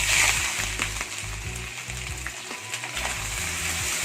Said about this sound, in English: Oil is hot, let us add little bit of salt to it and we will add the boiled mutton pieces.